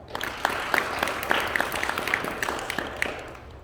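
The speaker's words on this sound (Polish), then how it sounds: "I brawa dla Maksyma" Parents and classmates at a school pledge ceremony for first-graders clap for a newly admitted pupil, a moderate, fairly close round of applause with distinct individual claps, no speech over it.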